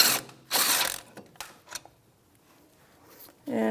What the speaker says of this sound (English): And now I'll get my electric gun to go faster.